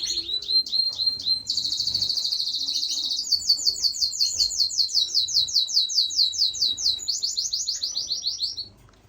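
Birds in an indoor bird room, where diamond doves are kept, give rapid, high chirping and twittering that runs almost continuously, bright and close, in a fast rhythmic pattern that fades near the end.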